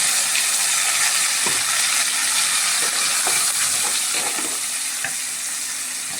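Chili, cumin, ginger and tomato paste hit a hot frying pan with a loud, steady sizzle and hiss that runs throughout, with a few light stirring scrapes and no voices.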